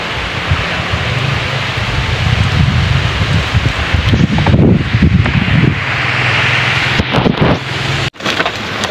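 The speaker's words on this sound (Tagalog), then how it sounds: "So ayan, umuulan na naman." Steady outdoor rain hisses loudly and continuously, with gusty wind and rustling foliage mixed in and a brief dropout near the end; no talking.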